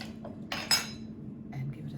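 A tin can that held tomatoes clinks against a metal pot as it is rinsed out, followed by a couple of quick clanks from stirring the sauce, close and faint in a quiet kitchen.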